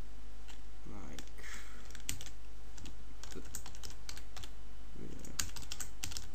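Computer keyboard typing during a software tutorial: a quick, irregular run of small clicks and taps close to the microphone over a steady low hum, with brief pauses between bursts of keystrokes.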